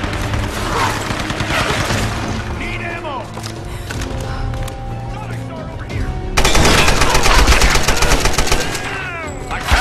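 Gunfire aimed at the player in the 2013 Tomb Raider video game on Xbox 360, in a jungle area: dense bursts of shots over a busy game backdrop, growing louder and heavier in the second half.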